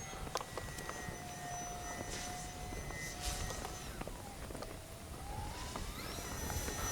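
FMS PC-21 Pilatus RC jet model airplane flying and tumbling through a flat spin, its motor a steady whine that shifts pitch as it swoops, heard at a distance over wind noise.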